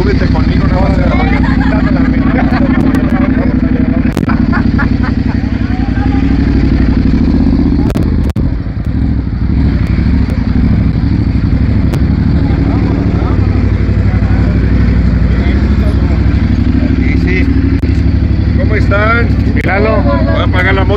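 A motorcycle engine idles nearby, loud and steady, with a low throbbing rumble that runs the whole time while people talk over it.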